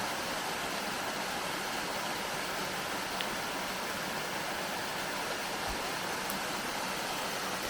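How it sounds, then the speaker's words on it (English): A small waterfall on the Fall Creek Falls Trail pours in a steady, dense hiss of falling water, constant and fairly close with no other sounds breaking through. "Nice little waterfall here"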